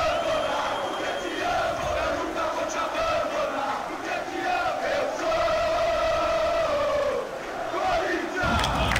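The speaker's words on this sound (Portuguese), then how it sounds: "Corinthians traz a sua grande torcida hoje, na expectativa de empurrar o time para buscar uma vitória." Dense football stadium crowd roar in the Super Bomba Patch PS2 video game, a steady loud wash of chanting supporters that holds throughout with slight swells, heard alone without a commentator over it.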